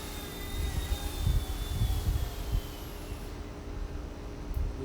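An Eachine E120 RC helicopter flying outdoors and coming down to land, its whining rotor and motor hum holding steady and fairly loud nearby, with gusty wind rumble underneath and the whine dropping away near the end.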